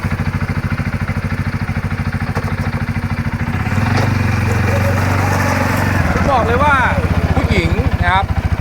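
A CFMOTO X520 ATV from 2023 rolls slowly around, its engine a steady close rumble with a throaty rise in revs partway through, alone with no talk.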